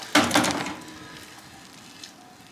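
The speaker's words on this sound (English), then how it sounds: "I can hear it sizzling." Wheel cleaner fizzes and crackles on a car wheel, starting with a brief louder burst of spray and hiss and then settling into a faint, close, steady sizzle.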